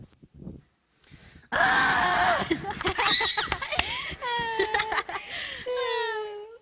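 Two boys shriek and squeal in fright at a plastic toy, with high wavering screams, whimpers and breathless cries in close, loud bursts after a quiet opening.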